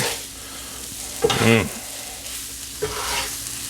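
Butter melts on a flat-top griddle beside chicken, peppers and onions, giving a steady soft sizzle under two short scraping, stirring bursts from a utensil.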